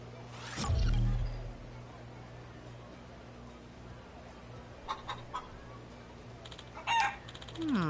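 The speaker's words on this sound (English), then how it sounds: "You can hear chickens talking." Chickens cluck and squawk in short bursts in the video game Yakuza, with a loud crow-like call near the start and scattered clucks over a quiet background.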